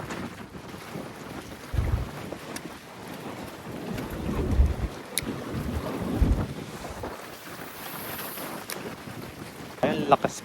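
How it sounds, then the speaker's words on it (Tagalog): Strong wind buffets the microphone on a small fishing boat out at sea among anglers, with gusty rumbling bursts and surging water noise throughout, and brief faint voices in the background. "Lakas po kasi ng hangin ngayon."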